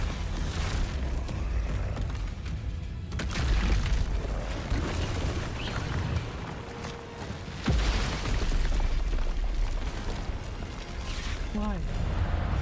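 Explosions from the Expulso blasting spell in Hogwarts Legacy combat, loud booming bursts that recur over a dense layer of battle effects, with a voice speaking between the blasts.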